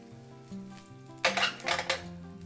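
Garlic and ginger drop into hot oil for a miso ramen broth, a short hiss and sizzle rising suddenly over a faint background hum, with a clink of a pan or utensil as the frying starts.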